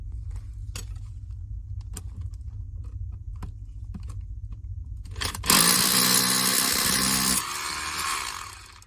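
Low hum with sharp periodic taps gives way to a loud, harsh grinding roar of a drill with a new bit boring into a concrete block, close by, easing off near the end.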